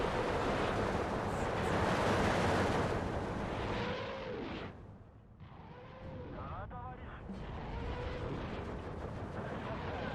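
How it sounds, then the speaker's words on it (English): Katyusha rocket launchers salvo in the WWII strategy game Steel Division 2, a dense roaring wash of rocket fire and rumbling blasts running throughout, with someone talking over it. "There go the Androshas. Firing their big old rockets."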